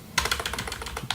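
A password typed on a computer keyboard at a sudo prompt: a close, quick, uneven run of about a dozen crisp keystrokes with a final tap after a short pause.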